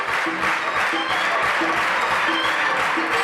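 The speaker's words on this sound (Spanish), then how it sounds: "¡Palmas, palmas arriba!" Audience applause fills a clown comedy show in Girona, a loud, dense wash of clapping that runs continuously with a faint steady rhythm and no voices over it.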